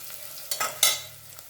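Potatoes, peas, tomatoes and spices being sautéed and stirred for masale bhaat, a Marathi spiced rice dish, with a couple of short scraping stirs over a soft background hiss, no talking.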